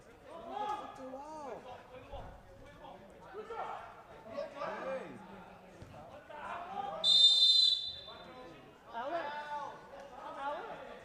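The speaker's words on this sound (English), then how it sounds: "Whistle, foul down in the corner." Referee's whistle blown for a foul during a professional indoor soccer match, one sharp shrill blast rising over steady crowd chatter and an announcer's commentary.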